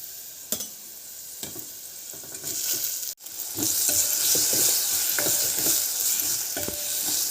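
Green chilies and turmeric fry in hot oil for a lentil and bottle gourd curry. Loud, continuous sizzling swells partway through, punctuated by sharp spatula clicks against the pan.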